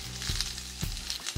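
Zucchini frying in olive oil in a hot pan gives a steady close sizzle with a few soft bursts of crackle, and no one speaks over it.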